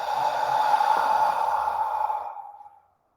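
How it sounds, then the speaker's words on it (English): A slow, steady open-mouthed exhale during a hatha yoga breathing exercise, like fogging up a window, breathy and close, holding for over two seconds before fading to silence. "Open your mouth. Imagine you're fogging up a window."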